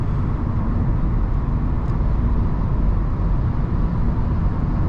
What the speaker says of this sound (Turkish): Şu anda rüzgar sesi alıyorum aracın içerisine.